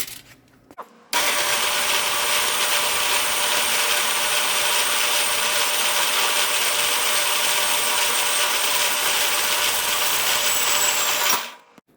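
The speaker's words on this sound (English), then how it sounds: "After you've cut it off with the bandsaw" A bandsaw cuts a handle piece for a hammer: after a brief quiet start, a loud, continuous whining rasp runs steadily for about ten seconds, then winds down abruptly at the end.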